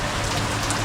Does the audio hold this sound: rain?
yes